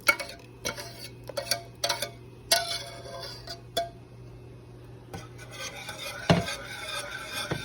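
Whisk stirring a heavy cream mixture for mac and cheese, a series of irregular clicks and taps against the bowl, some quick bursts and some isolated knocks, close and clear with no talking.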